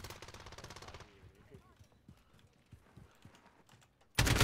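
Bursts of rapid gunfire from a shooting video game in a shoothouse setting, a dense automatic volley at the start and a loud burst at the end, with scattered lighter clicks and faint voices in between.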